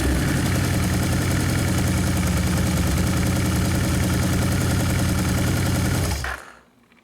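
A motorcycle engine idles steadily after a TAB auto tuner install, loud, close and even for about six seconds before cutting off and fading to quiet.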